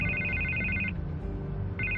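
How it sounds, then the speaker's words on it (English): Telephone in Batman The Telltale Series video game rings with a bright electronic trill, two ring bursts separated by a short pause over a low ambient game background. "I can't get the phone to stop ringing."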